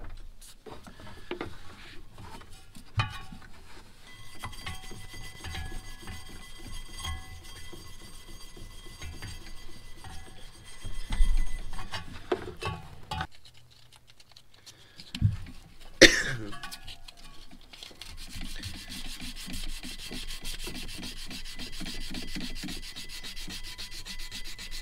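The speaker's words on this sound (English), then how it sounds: "So let's scrub it with this, and then we'll go hit it with the sandpaper." A glazed pulley on a Jeep is scrubbed and then sanded to remove the glazing, giving faint, intermittent rubbing and scraping strokes with a cough and a brief sharp noise in the middle, followed by a steadier abrasive hiss.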